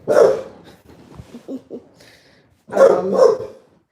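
A dog barks in a few sharp bursts, with softer whimpering and yips in between, close and loud.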